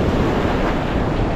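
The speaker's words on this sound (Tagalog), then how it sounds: "ang lalaki ng mga alon nyo" Large ocean waves surging and crashing continuously at sea after a typhoon, a steady loud roar of surf mixed with wind buffeting the microphone, with no voices.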